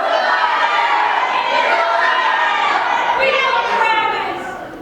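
A crowd of middle-school performers in a Passion play shouting together, a loud mass of overlapping young voices that holds steady and then fades away at the end.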